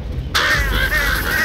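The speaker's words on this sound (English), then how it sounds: "You stupid crows!" Crows cawing in the video game Left 4 Dead 2, a loud, harsh raspy call bursting in suddenly and holding for about a second over a background rumble.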